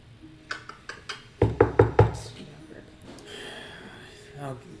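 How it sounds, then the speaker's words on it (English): Knocking on a door, a few light taps and then a loud run of four firm knocks, followed by quiet murmuring voices. "You hear a knock on your door."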